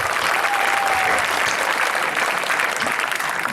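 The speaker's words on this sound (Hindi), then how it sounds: "एक बार जोरदार तालियां बजाकर" Loud, sustained applause from an audience at a Hindi comic poetry recital, a dense steady wash of clapping with no break.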